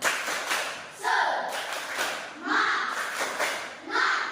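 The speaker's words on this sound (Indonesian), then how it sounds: "Ulang sekali lagi, tepuk semangat. Tepuk semangat." Children in a classroom do the "tepuk semangat" routine, bursts of rhythmic group clapping in short repeated phrases alongside chanted voices, fairly close and steady.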